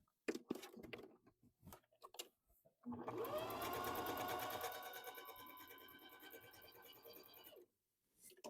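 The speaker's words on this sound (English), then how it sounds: "Now this is our little scallop stitch" After a stretch of talking, a Bernina sewing machine runs a scallop stitch in a steady, close whirring for several seconds before stopping.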